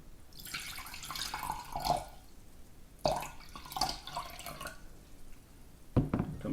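Water is poured from a cup into a bowl for a sodium alginate bath used to make homemade bubble tea pearls. Gentle splashing and trickling comes in several short, close bursts with quiet gaps between them.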